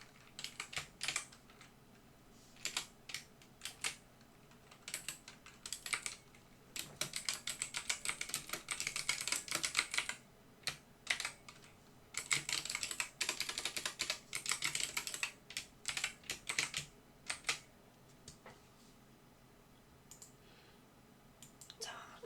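Rapid computer keyboard typing and mouse clicks while a chart title is entered in PowerPoint, bursts of close, crisp key clatter with pauses between, under quiet Korean narration.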